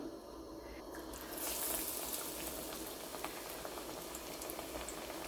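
Potato slices for bajji dropped into hot oil, a steady bubbling sizzle that swells as the slices go in, then keeps up a close, crackling fry.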